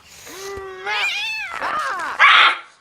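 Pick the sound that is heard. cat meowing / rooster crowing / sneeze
cat meowing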